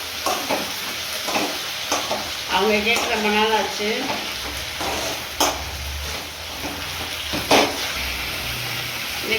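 Drumstick greens (murungai keerai) sauté in a pan, with a constant soft sizzle broken by scraping stirs and occasional clinks of a spoon, while someone speaks briefly over the cooking.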